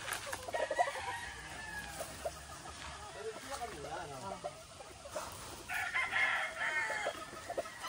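Pure-breed claret gamefowl rooster kept as broodcock clucks and crows at moderate distance, with people talking over and between the calls.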